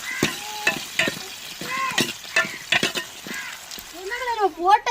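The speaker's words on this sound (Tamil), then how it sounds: "எண்ணெயிலே எல்லாமே நல்லா வதங்கி வரட்டும்." Moringa drumsticks and field beans sauté in oil in a pan for a dried-fish curry, a soft steady sizzle with occasional stirring, mostly under a person talking.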